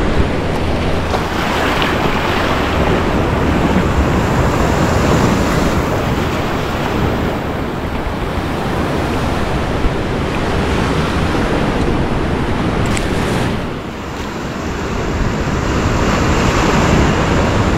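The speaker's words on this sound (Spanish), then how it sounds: "Miren aquí las grandes entradas que se van haciendo ya debido a la ola que está pegando en marea alta." Large ocean waves wash steadily onto a shore at high tide, a constant loud roar of surf with wind buffeting the microphone and a short lull before the next surge.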